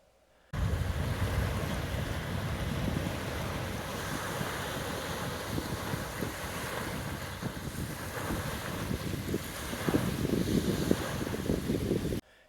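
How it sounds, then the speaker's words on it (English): Strong gusty wind with surf crashing at a kayak boat ramp in 30 to 40 mph winds, a continuous loud roar of wind buffeting the microphone over churning waves, steady throughout with no talk. "That looks like an ocean picture, with the waves crashing in."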